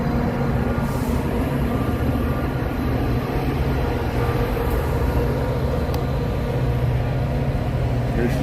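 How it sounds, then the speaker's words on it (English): A Chicago Metra commuter train passing along the tracks beside a city street, a steady loud rumbling drone with humming tones that continues throughout. "There's the Metro going by."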